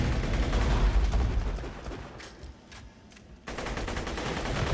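Rifle gunfire in Borderlands 2 in rapid, dense volleys during a Leviathan boss fight, loud and continuous, dropping briefly to a few scattered shots before the fire resumes.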